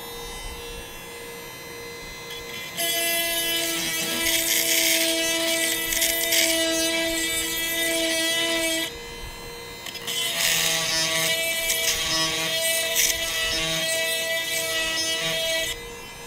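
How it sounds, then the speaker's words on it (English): An electric chainsaw sharpener grinds chainsaw cutters in two passes, a whining, tonal grinding hum that rises when the wheel meets each cutter and drops back between them, close and steady. "So I'm going to go ahead and turn this on"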